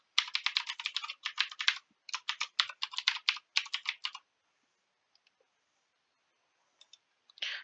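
Typing an email address on a computer keyboard: quick, close bursts of clicking keystrokes in several rapid runs, then a few isolated taps after a pause.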